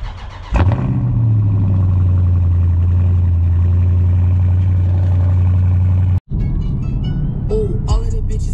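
A 2019 Dodge Scat Pack's engine barks to life and holds a loud, deep droning rev close by for several seconds. It cuts out abruptly, then rumbles on at a lower, rougher idle with some brief higher sounds.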